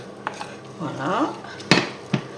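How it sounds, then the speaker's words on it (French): Leeks and onions gently stirred in a liquid sauce for a leek and camembert cream tart, giving soft scraping and a few sharp utensil clinks against the pan, close and moderately loud. "On remue délicatement."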